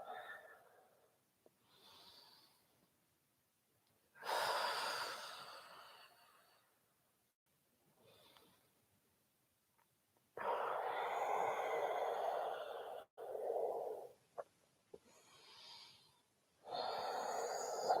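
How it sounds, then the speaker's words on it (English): Slow yoga breaths during a lockdown evening class, each long inhale and exhale heard close and soft, rising and fading in a calm rhythm with quiet pauses between breaths. "Inhale up, exhale."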